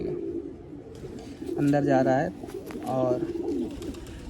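Pigeons coo in two low, throaty bursts, the first longer, fairly close and clear, while someone talks quietly in the background about pairing birds.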